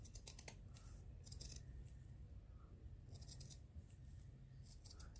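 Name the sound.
scissors cutting a piece of material for art journal cover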